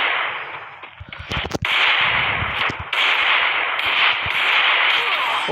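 Gunfire rings out in the mobile shooter game Free Fire: a loud, steady wash of game sound with sharp, cracking shots clustered near the start and scattered later, close and dominant, without talk.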